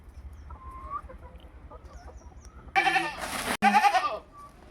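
A goat lets out two loud, wavering bleats close by near the end, after a quiet stretch with faint bird clucks.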